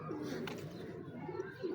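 A crossbred Kasuri pigeon coos quietly in low, murmuring tones, close but faint, with a voice speaking intermittently over it.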